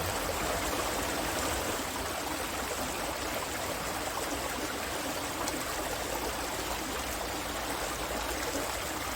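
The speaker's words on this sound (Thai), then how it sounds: "เราเห็นน้ำไหลแบบนี้ มันทำให้จิตใจแบบผ่อนคลายมากเลย" A small stream flows steadily past a little farm check dam in a quiet natural spot in the morning, its continuous broadband rush and trickle holding an even level from start to finish with no voices.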